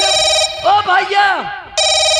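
An old-style telephone bell rings loudly in two bursts, and people speak over the gap between the rings in a Hindi nautanki stage show.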